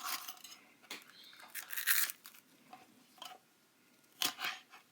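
Knife or kitchen shears cutting through raw chicken for a teriyaki stir fry, a series of short crunchy snips and tearing sounds, close and fairly quiet, with brief pauses between cuts.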